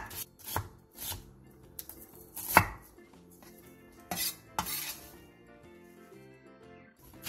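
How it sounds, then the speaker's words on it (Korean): Half an onion is sliced thinly with a knife against the grain, then along it, giving a few separate, sharp knife strikes on a cutting board with quiet pauses between them. "얇게 채 썰어주세요."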